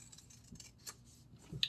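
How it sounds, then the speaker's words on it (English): Scissors snip through paper while cutting out a printed spring flower, a few quiet, close crisp cuts with one sharper snip near the end. "Let me go ahead and cut"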